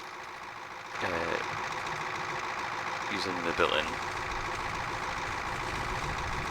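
A Douglas DC-3 engine cranks and sputters toward starting in the Prepar3D v4.5 flight simulator, a steady mechanical drone with rhythmic chugging bursts, under someone talking.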